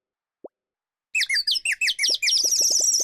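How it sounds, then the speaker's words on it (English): A bird sings a rapid series of bright, warbling chirps and trills, loud and close, with a few soft plopping knocks mixed in and one isolated knock before the song starts. "The bird is singing."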